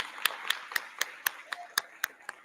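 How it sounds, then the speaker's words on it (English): Steady, rhythmic clapping, about four claps per second, fairly close and even in strength, like a small group applauding in time at an honor society induction ceremony. "Give yourselves a round of applause."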